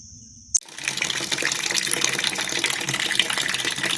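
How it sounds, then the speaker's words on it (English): After a brief tone cuts off, water pours out of a pasteurizer used as a water bath in a steady, loud gush, like a container being emptied into a drain. "This is me emptying the water out of the pasteurizer, which I use as a water bath."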